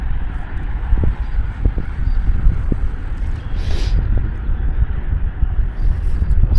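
High wind blows at Harrier Lake in Illinois, a loud, low roar of gusts buffeting the microphone with a few dull thumps and a brief hiss midway, with no talking.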